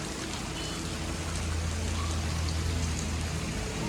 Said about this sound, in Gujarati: આજે વરસાદ જોરદાર પડી રહ્યો છે